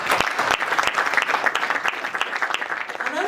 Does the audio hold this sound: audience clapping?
yes